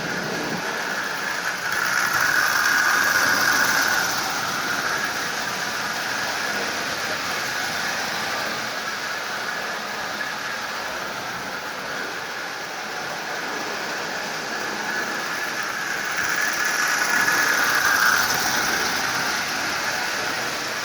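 A Marx 666 toy steam locomotive with a working smoke generator running at low speed, giving a steady close motor whir and wheel rumble that swells twice as it passes nearer.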